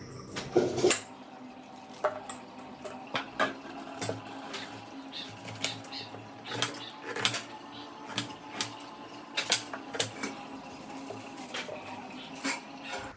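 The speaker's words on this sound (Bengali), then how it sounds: "চলো পেয়ারা কেটে দিই" A knife cutting a guava in a home kitchen, with a run of sharp, irregular clicks and taps of the blade against a plate or board, close and fairly crisp, with no talking.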